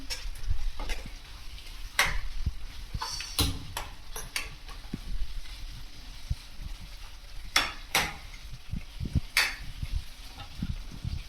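Beef being mixed in a pan for beef dry fry: irregular clacks and scrapes of a spoon against the pan over a low sizzle, close and moderately loud, with no talking.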